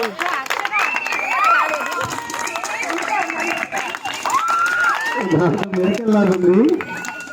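Audience applause at a stage event, with steady clapping mixed with excited cheering and children's shouts throughout, and voices rising over the crowd noise.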